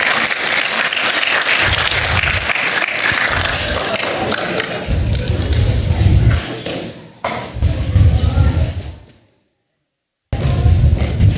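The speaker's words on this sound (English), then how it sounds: "All right, let's clap for Benjamin to come up here." Loud, sustained applause from an audience at an indoor camp event as a boy named Benjamin comes forward, with thumping bursts mixed in, a brief dip near seven seconds and a full second of silence before the clapping resumes.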